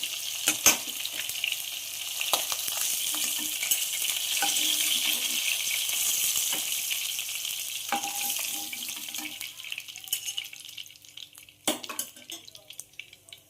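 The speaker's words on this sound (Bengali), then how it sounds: "মাছগুলো হালকা করে ভাজা হয়ে গেছে।" Pieces of rohu fish fry lightly in oil in a kadai, a continuous close hiss and crackle that eases off toward the end, with occasional metal spatula clinks and knocks against the pan.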